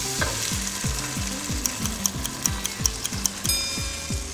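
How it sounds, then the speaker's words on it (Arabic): Tomatoes dropped into hot olive oil with grated onion give a steady close frying sizzle, overlaid by a regular rhythmic ticking pattern of low knocks and brief bright clicks, with no voices. "دلوقتي هحط الطماطم على طول."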